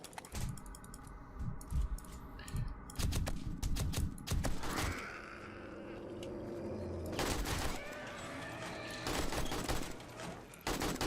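Shotgun blasts fire in the survival game 7 Days to Die during a fight against a zombie mob, coming as sharp, rapid bursts with clattering impacts and scattered in-game noise, all quiet overall.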